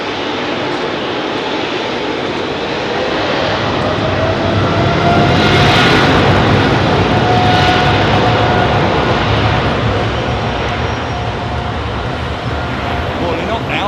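A Boeing 787 Dreamliner departs from runway 27R at London Heathrow with a loud, dense engine roar that rises to a peak midway and then eases slightly. A voice speaks briefly over it.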